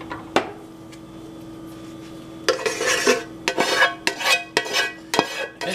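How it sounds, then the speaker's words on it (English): Food scraped and emptied out of a skillet during chicken thigh and vegetable meal prep: a lone sharp clank, then a burst of repeated metallic scrapes and knocks of utensil on pan, close and loud, no talking. "let me get everything out the skillet"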